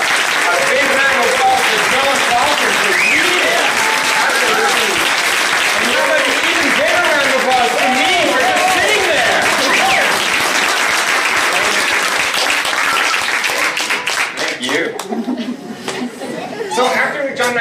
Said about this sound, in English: A big round of applause for Jon Klassen for you.